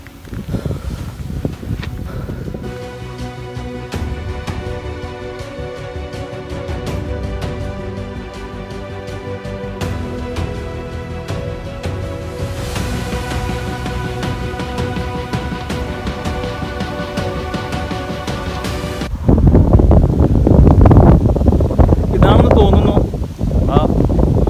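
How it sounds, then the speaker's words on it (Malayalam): Strong wind on the hilltop of Peruvanmala in Thrissur, heard first beneath music and then as loud, rough gusts buffeting the microphone near the end. "നല്ല കാറ്റ്"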